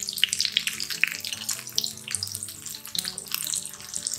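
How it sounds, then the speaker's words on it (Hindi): Onion pakoras made with rice flour fry in hot oil, a close, continuous bubbling sizzle with crackling pops. "ये देखिए हमारे पकौड़े दूसरी तरफ से भी फ्राई हो चुके हैं"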